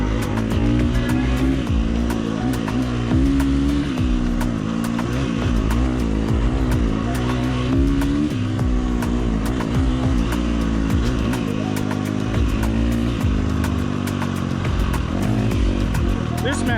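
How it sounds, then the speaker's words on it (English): A motorcycle running a Tokyo Mods Vortex ECU map rides along a busy two-way road, its engine loud and constant with fluctuating revs and crackling engine braking, under wind rush and occasional talk. "This map has a ton of engine braking."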